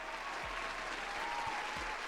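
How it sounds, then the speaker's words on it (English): Soft, distant applause from an audience, a faint even patter of clapping with a few low thumps over it. "So let's give her a round of applause for that."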